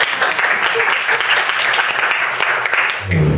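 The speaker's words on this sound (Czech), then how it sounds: "zatleskáme maminku" An audience applauds a mother in a Czech hall, steady dense clapping lasting several seconds, with a voice murmuring near the end.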